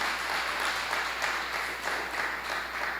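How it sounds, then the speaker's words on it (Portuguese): Steady applause from a church congregation during a Portuguese-language doctrine service, a dense even wash of many hands clapping with no voices over it. "As palmas exaltam o Rei Jesus."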